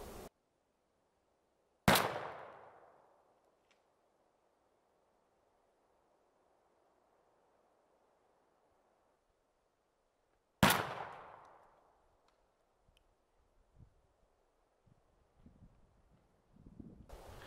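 Two sharp, loud blasts from a 20 gauge shotgun firing Winchester Long Beard XR #6 turkey loads outdoors, roughly nine seconds apart, each leaving a fading echo, with quiet rustling afterward.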